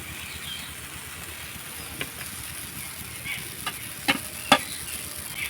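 Jali chitoi pitha batter cooking in a pan over low heat: a quiet, steady sizzle with a few faint clicks and taps near the end, close and without any voices.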